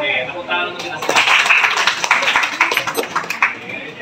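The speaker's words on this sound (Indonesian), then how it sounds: "Oke, tepuk tangan untuk kita semua." A classroom of students claps together during a class debate session. Brief voices come first, then a burst of many hands clapping for a few seconds before it thins out.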